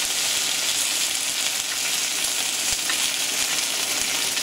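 Steady, dense sizzling and crackling of food burning in a hot pan on a Magio MG-446 induction hob, continuous and close, with no voices.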